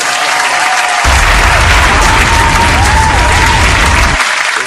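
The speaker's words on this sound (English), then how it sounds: "Clap it up" An audience breaks into loud, dense applause that swells suddenly and holds for a few seconds before cutting off.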